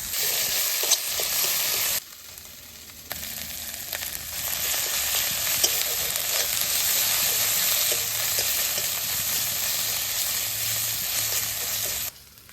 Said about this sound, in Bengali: ভাজা পেঁয়াজটার মধ্যে এবার আদা রসুন বাটাটা দিয়ে দেবো